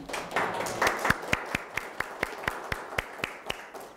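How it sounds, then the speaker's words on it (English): Brief round of audience applause for guests at a talk on getting care and assisted living, starting as dense clapping and thinning to a handful of distinct, evenly spaced claps that fade out. "Could I ask for a quick round of applause for my guests?"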